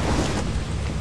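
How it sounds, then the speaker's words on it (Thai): Rain and thunder in the Lethal Company video game make a brief, continuous wash of rain noise with a low, rumbling undertone, steady and fairly loud, with no talking. "เป็นฝนตกด้วยแล้วน้ำท่วมด้วยเรียบร้อยจะมาแล้ว"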